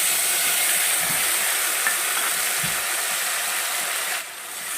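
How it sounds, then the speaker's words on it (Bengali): Spice paste frying in a pan for a khichuri meal gives a steady, close, dense sizzle that runs unbroken and softens slightly near the end. "এটা বেশ সুন্দর করে আমি ভেজে নেব"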